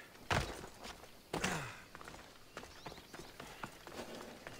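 Hooves clip-clop under a horse in Assassin's Creed Odyssey, a few heavy thuds near the start followed by a lighter, steady walking patter with no speech.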